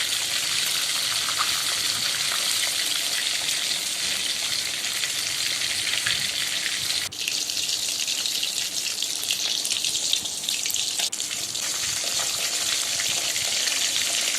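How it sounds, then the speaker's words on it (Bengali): Constant, dense sizzling and crackling of rohu fish pieces frying in oil, loud and close, continuing without a break. "উল্টে পাল্টে দুপাশই লাল করে ভেজে নিতে হবে।"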